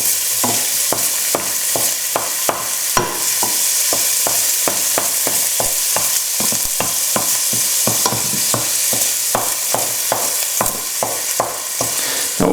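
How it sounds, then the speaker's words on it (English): Pancetta frying in a pan, a constant loud sizzle with regular scraping strokes as it is stirred and moved around, close and without talk. "I'm going to put in the pancetta. Give that a quick move around."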